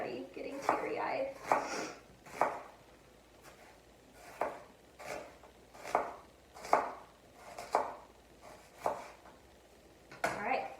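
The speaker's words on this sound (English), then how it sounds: "we're just going to thinly slice our onion and put it on top of our salad here" A knife thinly slices an onion on a cutting board for a salad: a steady run of about a dozen crisp, close chops at an even rhythm, with brief pauses between strokes.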